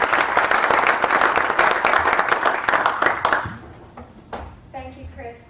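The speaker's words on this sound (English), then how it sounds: "Give her a round of applause." Audience applause for a speaker at a Michigan crowdfunding event: a dense, steady wash of clapping with sharp individual claps for about three and a half seconds, then fading as a voice begins speaking.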